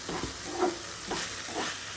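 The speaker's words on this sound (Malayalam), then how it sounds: "ഇനി ഒരു അഞ്ച് മിനിറ്റ് ഒന്ന് നല്ലപോലെ ഒന്ന് ഇളക്കി കൊടുക്കാം" Fried chicken pieces are stirred in a pan of rava biryani masala, giving a steady frying sizzle broken by a few scraping strokes of the spoon, close and moderately loud, with no talk.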